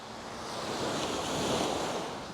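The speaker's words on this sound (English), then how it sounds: "The sea is so refreshing to walk in, it's lovely." Sea waves breaking on the shore at Can Picafort, Mallorca, a steady broadband wash of surf that swells slightly toward the middle, with some wind noise over the microphone and no speech.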